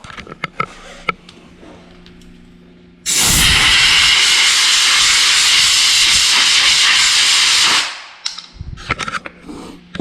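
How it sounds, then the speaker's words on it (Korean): Compressed air blasts dust off a dirty XM3 car air filter in one loud, steady hiss lasting about five seconds, with faint handling clicks before and after. "이 오염되어 있는 것들을 에어로 한 번씩 불어주는 거예요"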